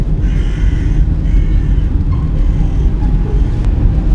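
Crows caw from roadside territory fights as cars pass on a road, with harsh calls over a loud, steady rumble of nearby traffic and no speech.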